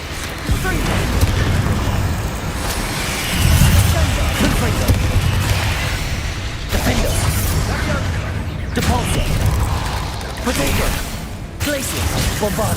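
A Confringo spell fired in the video game Hogwarts Legacy: repeated loud booms and whooshing blasts amid dense combat noise, with a voice talking underneath.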